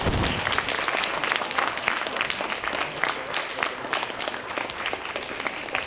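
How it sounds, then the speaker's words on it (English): A crowd claps steadily and energetically, sustained applause filling the whole stretch without pause. "How about a round of applause for these?"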